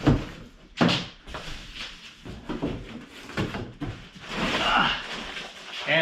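A giant cardboard box holding an FJ Cruiser bumper being opened, with loud scraping, thumping cardboard flaps and sliding rustles close by, alongside some voice.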